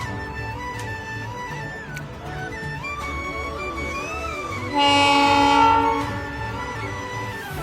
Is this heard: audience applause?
no